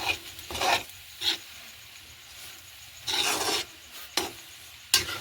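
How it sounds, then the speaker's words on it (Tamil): A spoon scrapes and rubs through rice-flour puttu mixed with dried anchovy in a pan, several separate rasping strokes close by, with quiet pauses between them and no voices. "கொஞ்சம் கொஞ்சமாக சேர்த்து அதோட கிளறி விட்டால் ஓகே"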